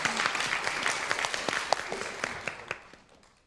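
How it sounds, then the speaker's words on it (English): Audience applause at the close of a lecture event, a burst of many hands clapping with distinct sharp claps standing out, fairly close, gradually thinning and fading over about three seconds. "please give them a round of applause for everything"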